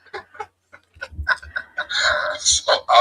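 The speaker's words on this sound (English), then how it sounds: "Goose." A goose honks repeatedly and close by, starting as sparse short calls and building into a dense run of loud, harsh honks toward the end.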